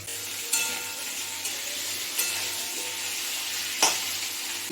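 Cut potatoes frying in oil over a cumin tempering, giving an even, continuous sizzle with a few sharp clinks and stirring knocks spaced through it, close by and free of talk.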